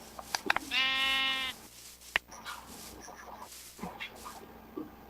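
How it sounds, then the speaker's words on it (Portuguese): A sheep in the Minecraft video game bleats once in a clear, buzzing, wavering call lasting about a second, followed by quieter game sounds and faint clicks. "Ah, eu matei uma ovelha sem querer, cara."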